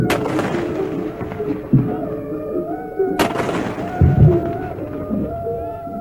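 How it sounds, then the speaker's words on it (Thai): Two heavy booming blasts from a 21-gun naval artillery salute, one early and one midway, ring out over a busy outdoor murmur of crowd and band sound at a Thai royal ceremony. "บกทหารเรือยิงปืนใหญ่เฉลิมพระเกียรติฝ่ายละ 21 นัด"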